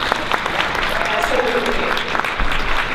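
An audience at a social justice education fair panel claps briefly, with busy, close-sounding applause and some murmuring voices mixed in.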